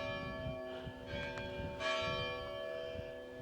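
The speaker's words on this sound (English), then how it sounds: "Hello, church bells." Church bells in a Spanish village ring with a few overlapping, resonant strikes at moderate distance, the tones sustaining and blending over quiet surroundings.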